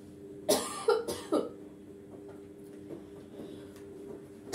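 A few sharp, separate coughs close by, three bursts in quick succession, followed by quiet room sounds.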